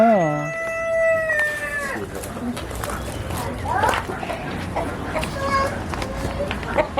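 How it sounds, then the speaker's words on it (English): Polish rooster crowing loudly and close at the start in one long stretched call, followed by scattered clucking and scuffling while people talk nearby. "It's a Polish rooster?"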